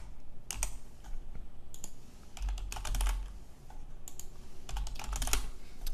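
Bursts of quick keystrokes on a computer keyboard, typed in short irregular runs with brief pauses, close and fairly quiet, with no voices.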